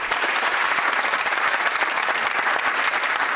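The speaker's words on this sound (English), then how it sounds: "Let's have applause for our contestants." A studio audience at the Countdown game show applauds the contestants, giving dense, steady, sustained clapping that stays loud and even throughout.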